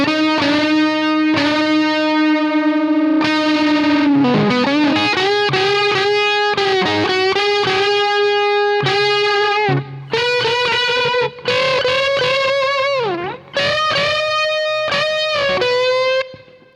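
A distorted electric guitar with effects plays licks, bending from the flat seventh up to the root, the pitch audibly sliding upward; loud, sustained and ringing, with no voice.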